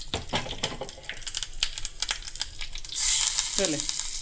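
Crackling sizzle of tempering spices hitting hot oil for a Mangalorean banana stem chutney, with scattered clicks and pops, swelling into a loud steady hiss partway through.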